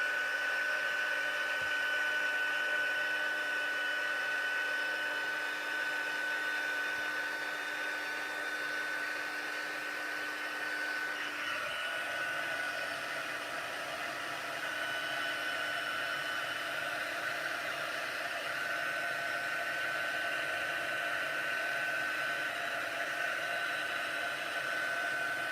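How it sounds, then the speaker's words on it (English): A heat tool blows a steady, loud whooshing roar while melting embossing powder, continuous throughout with a slight shift in tone partway through as it is moved. "Right, heat tool."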